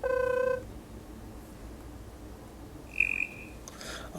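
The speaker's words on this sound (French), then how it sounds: "sonnerie du téléphone" A Mstar S700 smartphone plays a ringtone: a short, loud electronic chime of stacked tones opens the clip, then quiet until a single brief higher beep near the end.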